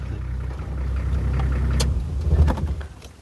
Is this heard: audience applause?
no